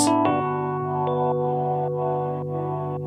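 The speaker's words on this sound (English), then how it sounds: "At the beginning of the track, I've started with an electric piano" Electric piano playing soft sustained chords with a mellow, bell-like tone, notes ringing out alone at a steady moderate level, on a recreation of a song.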